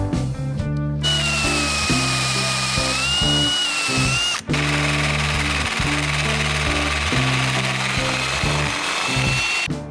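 A power drill drives a hole saw through an aluminum car body panel, a loud, close, continuous whirring grind with a brief pause partway through and no voices.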